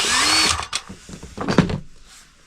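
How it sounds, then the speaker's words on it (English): A power drill whines briefly at high speed, then winds down into clattering, thumping handling noises. "I think we're ready to drill some holes"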